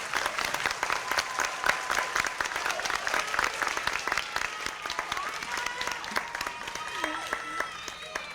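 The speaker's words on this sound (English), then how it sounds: "Give them a big round of applause." A crowd at a 2022 summer school graduation claps for the graduates, dense, sustained applause with a few louder close claps and some cheering voices mixed in toward the end.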